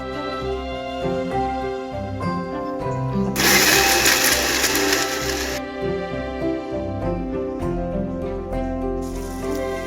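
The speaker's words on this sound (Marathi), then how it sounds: "आता हे मिक्सर मध्ये बारीक करून घ्यायचे।" A mixer grinder grinds a cooled mixture of roasted onion and tomato into paste, a loud whirring burst of about two seconds rising over steady background music.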